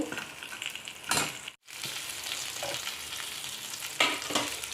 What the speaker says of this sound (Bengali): মাছ ভাজতে ভাজতে সাইডে কয়েকটা বা ঘরে বানানো বানানো বড়িগুলো দিয়ে দিলাম আর একটুখানি লাল করে ভেজে নেব